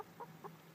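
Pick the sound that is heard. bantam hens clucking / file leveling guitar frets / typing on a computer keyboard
bantam hens clucking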